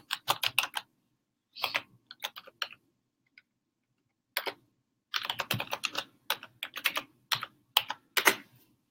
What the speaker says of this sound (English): I'm going to type that link in again